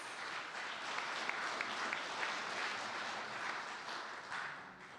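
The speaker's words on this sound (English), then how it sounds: "Let's give them all a final round of applause as they return to their seats." Audience applause at a Nottingham Citizens assembly as candidates return to their seats, a steady, dense clapping from a crowd lasting throughout, moderately loud and fairly distant, with no talk over it.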